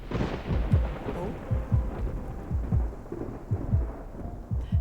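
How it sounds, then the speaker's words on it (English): Thunder rumbling outside in the video game Love & Deepspace, layered over steady rain, with low booming rolls that recur every second or so, loud and close, and no talking. "thunder roars from outside. The sound alone makes me jump."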